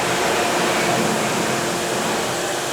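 A hand dryer in a campus washroom in Jakarta runs with a loud, steady, close airy roar that holds unbroken throughout, with no talking.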